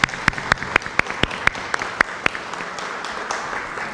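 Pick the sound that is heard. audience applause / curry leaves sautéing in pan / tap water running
audience applause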